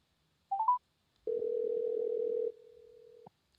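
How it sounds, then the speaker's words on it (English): A telephone line dials: a few quick keypad tones, then a steady dial tone that holds for about two seconds and drops in level before cutting off, clear and close. "I am going to attempt to call Anne Marie here, and let's see."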